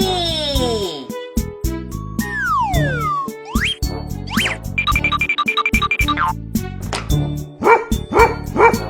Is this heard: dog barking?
yes